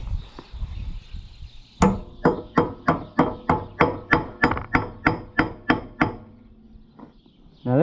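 A hammer taps a tapered roller bearing race into place about a dozen times in a steady, even rhythm, sharp and close, then a pause and one last tap.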